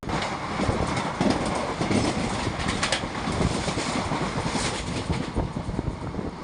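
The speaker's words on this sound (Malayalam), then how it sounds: "ഈ ട്രെയിന് സ്റ്റോപ്പില്ലാത്തതുകൊണ്ട് അടിച്ചു പൊളിച്ച് നല്ല സ്പീഡിൽ പോയിക്കൊണ്ടിരിക്കുകയാണ്" A non-stop train rushes along the rails at speed, a steady loud rumble with a rapid clattering of wheels over track joints and no voices.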